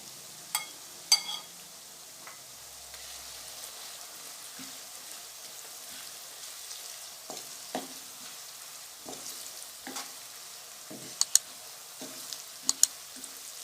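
Onions frying in a pan over a medium-high flame, a faint steady sizzle running throughout, broken by a few sharp clicks and light stirring knocks, with no talking.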